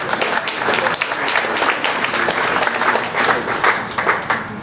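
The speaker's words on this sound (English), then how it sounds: "we'd also like to give them a round of applause and gratitude" Conference audience at a regulatory meeting breaks into a round of steady, dense applause, many hands clapping together at moderate loudness throughout.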